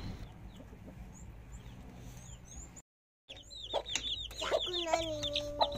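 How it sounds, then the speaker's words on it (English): Backyard chickens and young chicks cluck and peep in bursts, close by, with a brief gap of silence partway through; the clucking grows busier and louder toward the end. "the chicks are quite jovial and active and they look healthy as well"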